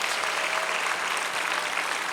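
Church congregation applauding at a prayer rally in the Yongsan War Memorial hall, a brief, loud, continuous roar of many hands clapping together with no voice over it.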